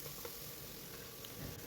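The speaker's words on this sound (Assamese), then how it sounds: "বিলাহী সকলোখিনি একেলগে দি ভাজিছোঁ।" Onion, garlic, ginger and tomato fry together in oil, giving a steady, soft sizzle that stays low and continuous throughout with no talking.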